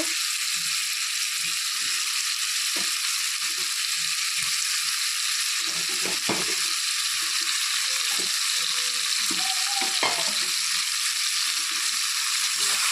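Stinging catfish fry in a ridge gourd masala with a steady, hissing sizzle. Intermittent stirring clatters and scrapes sound up close beneath it.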